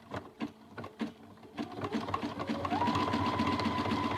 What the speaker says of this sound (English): I'm going to hand crank one more time, make sure my needle's where I want it, next to the edge, and then I'm going to start stitching.